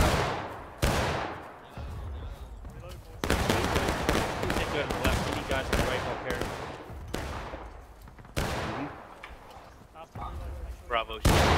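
Musket volleys crack out in War of Rights, a video game set in the American Civil War. Several loud, booming rounds of gunfire echo and roll away, and faint voices call out between them.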